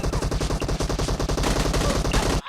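Rapid automatic gunfire in the mobile game PUBG Mobile, a loud, steady burst of evenly spaced shots lasting a couple of seconds before cutting off abruptly.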